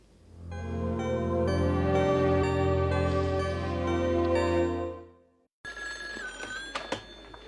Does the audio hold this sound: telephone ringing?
yes